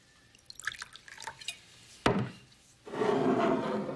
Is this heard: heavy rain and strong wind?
no